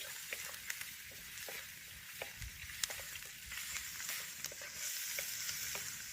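Tomatoes sizzle and crackle in a hot pan, with scattered pops and occasional scraping of a utensil stirring them, close up.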